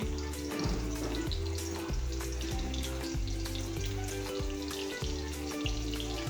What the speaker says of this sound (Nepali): जिरा तातिसकेपछि मैले त्यसमा थोरै पियाज पनि राखेँ।